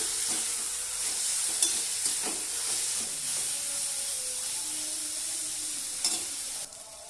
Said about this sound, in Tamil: இப்போ எல்லாத்தையும் சேர்த்து நல்லா வதக்கி விட்டுக்கலாம்.